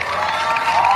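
A crowd cheering outside as a jail van arrives, a dense steady roar of voices and whoops filling the whole moment.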